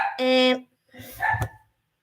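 Dogs bark inside a house: two loud, close barking bursts separated by a brief pause, the second rougher and mixed with other noise.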